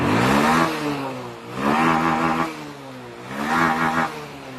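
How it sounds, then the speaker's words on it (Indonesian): A Honda Beat scooter engine, being serviced for a kick-starter problem, revs hard three times in close succession, each burst climbing in pitch and then dropping back to idle, loud and close with no talk over it. "Ini saya gas betot, ya. Saya gas betot."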